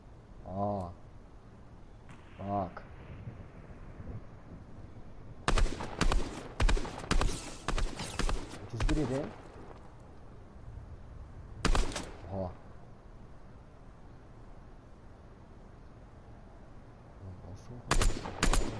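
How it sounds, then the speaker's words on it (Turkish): Bursts of automatic gunfire in a Fortnite Battle Royale match, several rapid volleys with gaps between them, interspersed with a player talking over the game sounds. "Adam sıkıyor bana mı sıkıyor?"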